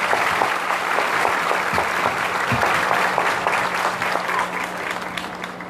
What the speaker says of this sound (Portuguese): Então a ele nossas boas-vindas com a calorosa salva de palmas